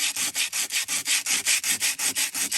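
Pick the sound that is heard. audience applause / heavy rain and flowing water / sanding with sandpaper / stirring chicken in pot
sanding with sandpaper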